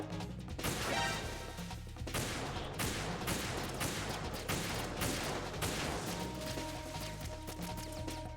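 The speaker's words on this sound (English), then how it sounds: "I'll provide support fire for you." Repeated gunfire in Metal Gear Solid 2: Sons of Liberty, a string of sharp, loud shots and impacts spaced about a second apart over a steady game background.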